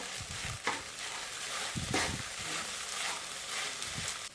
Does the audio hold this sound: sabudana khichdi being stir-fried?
yes